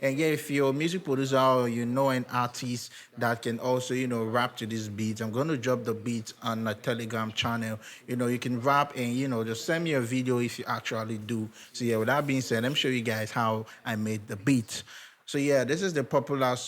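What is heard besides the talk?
No distinct noise like a dog, phone or traffic.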